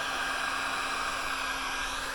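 A steady, close whooshing hiss of a hair dryer blowing continuously to heat a sticker on a Beta RR200 motorcycle, with a faint constant hum underneath.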